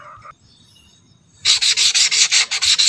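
Rhythmic hand sanding of an agate gemstone, a series of about ten close, scratchy strokes in a steady back-and-forth, after a quiet start with faint rubbing.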